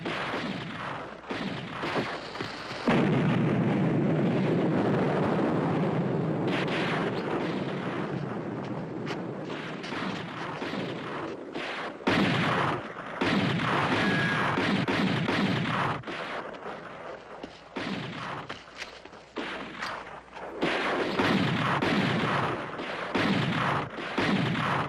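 Artillery cannons boom across a war film battle scene, heavy blasts and rumbling reports recurring irregularly over about twenty-five seconds, loud with wind-like noise between shots.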